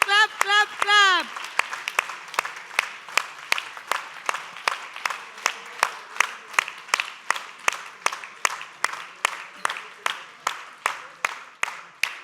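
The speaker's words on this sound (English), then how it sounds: "Come on, clap," A crowd claps in a steady, evenly paced rhythm of single synchronized claps for about eleven seconds after a brief cheering voice at the start, with talk underneath.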